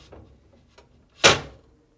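Smaller glass shelf set down onto the platter shelf of a Whirlpool refrigerator: a couple of light taps, then one sharp, close clack as it settles.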